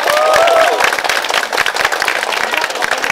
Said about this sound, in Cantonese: 俾掌聲國師，陳雲